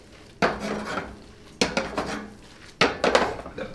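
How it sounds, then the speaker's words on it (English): Spaghetti and shrimp tossed together in a pan, heard as three separate bursts of metallic scraping and clattering, each followed by a short run of quieter rattles, over a low background. "now we give a nice turn for the pasta"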